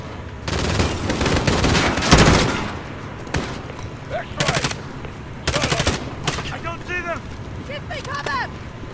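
Rapid gunfire from a Call of Duty Modern Warfare campaign battle crackles in sharp, loud bursts of automatic fire with single shots between, and a voice talks over the later part.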